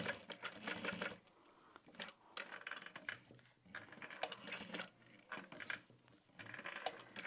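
A sewing machine top stitching a small handmade Guardian bag, mechanical whirring bursts of stitching in short runs with brief pauses between, close and fairly quiet, no voices.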